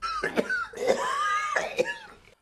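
Several rough, harsh coughs in close succession, close and moderately loud, with brief pauses between bursts.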